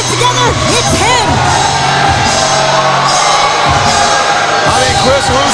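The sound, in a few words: wrestling crowd cheering at SmackDown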